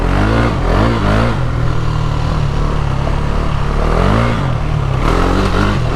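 KTM Duke 390 motorcycle engine revving hard and close, loud and continuous, its pitch climbing and dropping in repeated throttle blips over a steady rumbling drone.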